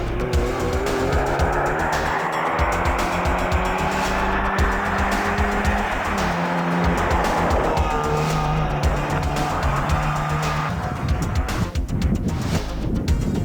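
Rally car racing at the 1993 Otepää rally, engine loud and close, rising and falling through gear changes with tire squeal and skidding on the surface, no voices.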